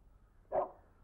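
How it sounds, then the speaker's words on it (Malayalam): A stray dog that wandered in through an open gate barks once inside a house, a single short, muffled bark against quiet background. "പിള്ളേർ ഗേറ്റ് തുറന്നിട്ടിരുന്ന് ഒരു പട്ടി അകത്ത് കയറി."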